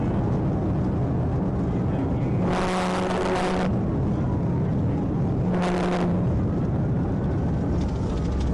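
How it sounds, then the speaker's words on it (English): Car racing down Interstate 530 at over 140 mph during a police chase: a constant loud roar of engine and wind rush, with two whooshing surges as vehicles pass close by. "he was flying down Interstate 530 at over 140 miles per hour"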